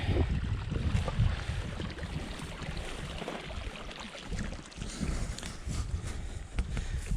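Water in Deadman Creek rushes steadily over shallow stones, a broad continuous wash heard up close with some wind noise.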